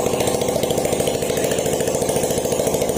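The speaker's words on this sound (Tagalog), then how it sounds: "Hindi pa natin nailalagay yung tambucho mga sir kaya maingay." A loud, close motorcycle engine, an Easyride 150 running without its muffler, revving rough and raw, with a rapid rattling, unmuffled pulse that holds steady throughout.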